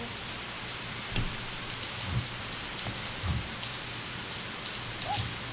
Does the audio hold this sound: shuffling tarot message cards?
no